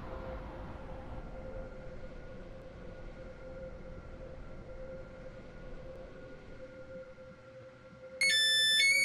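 A Class 801 train in the game Stepford County Railway idles at a platform with a steady electric hum, ending in a sudden loud, high electronic chime or alarm tone.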